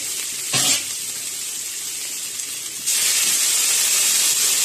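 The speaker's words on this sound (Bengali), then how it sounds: "তিন চার মিনিট ধরে ভালো করে কষানো হলে আমি দিয়ে দেব গরম জল।" Hot water poured into a pan of frying jackfruit curry sets off a loud sizzling hiss that surges near the start and swells again partway through, steady and close with no talking.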